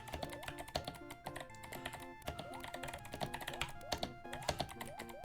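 Loud, rapid computer keyboard typing during a play of the game Mario Teaches Typing, a busy, uneven clatter of keystrokes running continuously, close up and without speech, over faint game music.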